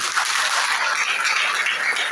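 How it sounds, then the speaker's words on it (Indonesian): Church congregation applauding during a Sunday worship service, a dense, steady wash of many hands clapping together for about two seconds, fairly loud and with no voices over it. "Jadi kita tepuk tangan bagi Tuhan"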